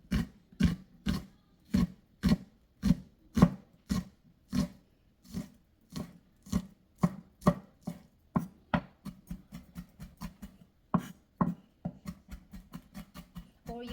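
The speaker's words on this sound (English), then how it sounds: "So I am going to cut it small pieces." Steady, rhythmic knife chops on a cutting board mincing onion for Korean mandu, dozens of sharp thuds that quicken toward the end, close and fairly loud with no talking.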